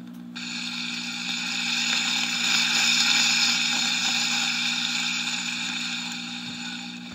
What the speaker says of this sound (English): Bacon frying.